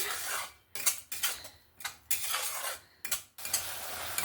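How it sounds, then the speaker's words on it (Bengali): Spice paste of ginger, garlic and onion being stirred and fried in a pan, with repeated scraping strokes of a utensil against the metal over a soft sizzle, in bursts separated by short pauses, close and without talk. "এবার ভালো করে মশলাটাকে কষিয়ে নেব যতক্ষণ না আদা রসুনের পেঁয়াজের কাঁচা গন্ধটা চলে যাচ্ছে"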